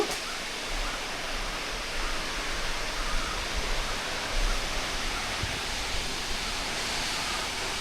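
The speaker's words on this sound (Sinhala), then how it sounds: "ඔන්න අපි රම්බොඩ ඇල්ලට ආවා." Ramboda waterfall in Sri Lanka, one of the country's tallest falls, heard as a steady, dense roar of falling water that fills the scene evenly from start to finish, with no voices.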